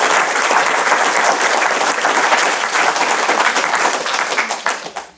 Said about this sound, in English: we should all take a minute to applaud our youth and our Youth Council members here today